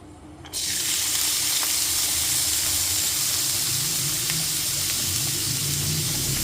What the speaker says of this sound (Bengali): তারপর এতে দিয়ে দিচ্ছি 4টে বড় সাইজের খুব ভালো মতো চপ করে নেওয়া পেঁয়াজ